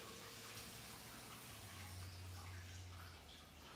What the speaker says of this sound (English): You guys hear this fucking water?